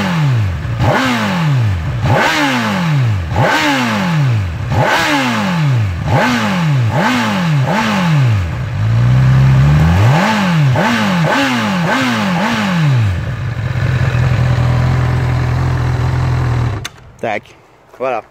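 A Honda CB1000R four-cylinder motorcycle idles and is revved again and again, each loud close blip rising and falling in quick succession before settling into a steady idle, then cutting off near the end.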